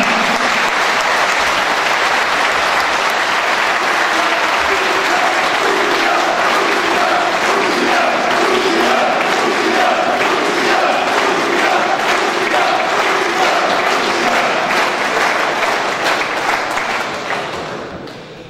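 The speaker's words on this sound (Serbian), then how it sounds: "Zato velikim aplauzom pozdravimo bratski narod Rusije i predsjednika Putina." Sustained, loud applause filling a hall during a ceremonial academy in Podgorica, a dense wash of clapping with crowd noise and shouts mixed in, running steadily before tapering off at the end.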